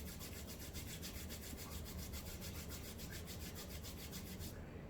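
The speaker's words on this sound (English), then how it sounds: "take your hand, put on the face and rub like this" Hands rubbing the face during a facial self-massage, a faint, steady rhythmic brushing that repeats quickly and evenly, then stops near the end.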